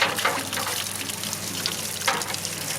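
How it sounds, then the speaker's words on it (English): Water running and gushing out of a drained pool heater in a pool house, a steady splashing flow with a few louder bursts, close by. "I let the water run out of the pool heater."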